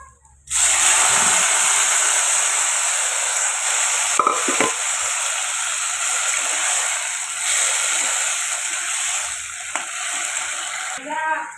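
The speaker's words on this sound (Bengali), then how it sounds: "ভালো করে লাউটা আর আলুটা নেড়ে নেওয়ার পর" Boiled bottle gourd and potato being stirred into fried onion in a hot pan, a steady loud sizzle with occasional scraping stir strokes throughout, no voices.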